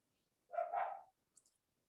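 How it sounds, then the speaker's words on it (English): A single muffled bark from a pet dog indoors, one short burst in an otherwise quiet room, followed by a couple of faint clicks. "not only are my dogs barking"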